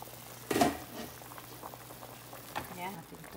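Spinach and green bean soup with salmon and shrimp boiling in a pot, a soft bubbling simmer with a louder burst of splashing and stirring near the start and another brief stir later, fairly close.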